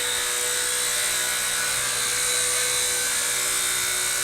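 An XK K110 RC helicopter hovers with a steady high-pitched whine from its spinning rotor and motor, constant and close throughout with no pauses.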